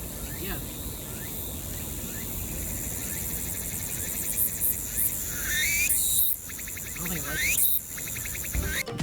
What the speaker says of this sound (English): During summer, cicadas are really loud, like annoyingly loud.